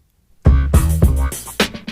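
A short hip-hop beat of chopped notes sampled from a vinyl record with punchy drum hits, loud and close after a brief silence.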